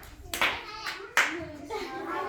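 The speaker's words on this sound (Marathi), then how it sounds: "छानपैकी टाळ्या वाजवा सगळ्यांनी" Schoolchildren and onlookers at a village school rope ladder activity clap in short bursts, with two sharp onsets followed by scattered claps while a voice and other chatter run underneath.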